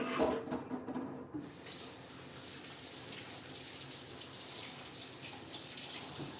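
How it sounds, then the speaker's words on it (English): A kitchen tap runs steadily into a sink as hands are washed after handling a deep red smoothie, a continuous close splashing hiss that starts after a brief clatter and holds evenly to the end, with no talking. "Wash your hands again."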